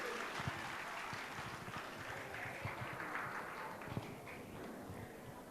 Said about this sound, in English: Let us give our little stars and their amazing parents another big round of applause